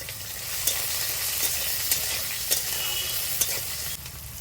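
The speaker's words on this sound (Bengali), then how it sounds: "এবার বড়িটা একটু ভেজে নেব বড়িটা লাল লাল হয়ে আসছে" Lentil nuggets (bori) frying in hot oil in a pan for a Bengali pui shak dish, with a steady close sizzle and a few clinks of stirring.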